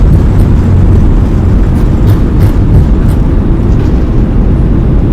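Airbus A320neo thrust reversers roaring on landing in a flight simulator, a loud, dense low-frequency rumble that holds steady throughout with no voices.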